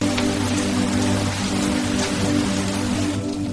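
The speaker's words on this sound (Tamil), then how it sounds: "மழையிலே மலை சாரலுடன் ஒரு அழகான நாள்" Rain falling on an Ooty hillside: a dense, even hiss of drops pattering steadily on surfaces, close and constant, with a faint low tonal hum beneath and no voices.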